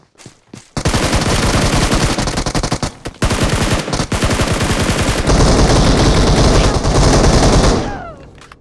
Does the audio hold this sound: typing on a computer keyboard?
no